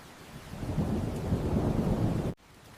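Heavy rain pours down in a dense, steady roar that swells and holds close and loud, then cuts off abruptly near the end.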